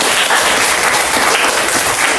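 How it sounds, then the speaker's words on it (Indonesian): A classroom of students applauds the winning group, steady dense clapping filling the room at close range throughout. "semuanya tolong beri tepuk tangan untuk pemenang hari ini."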